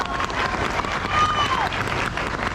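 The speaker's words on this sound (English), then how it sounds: "Let's give them a huge round of applause." Audience applause at a livestock fair after a show class, a short burst of crowd clapping with an announcer's voice over it.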